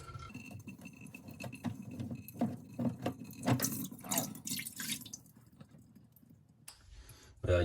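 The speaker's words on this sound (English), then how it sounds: "You can just let that water drain out." Water drains from an opened sink P-trap into a container, a close, irregular trickle and patter of drips that thins out toward the end before a louder clatter.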